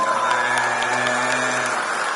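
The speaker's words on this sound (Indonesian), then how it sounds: "tepuk tangan dulu untuk Pak Ganjar semuanya." Steady applause from a crowd at the IdeaFest 2023 event in Indonesia, a dense continuous patter of clapping that holds at even loudness throughout.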